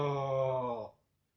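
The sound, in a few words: cow mooing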